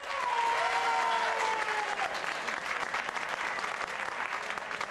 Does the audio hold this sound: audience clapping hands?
yes